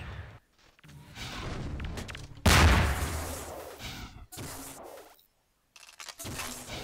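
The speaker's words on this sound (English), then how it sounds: "iBlue with a shotgun and SMG nade. Misses the SMG nade, misses the shotguns quite hard." Shotgun blasts and SMG grenade fire in a Half-Life 2 Deathmatch one-on-one match, with a loud booming burst near the middle and scattered shots around it, separated by short silent gaps.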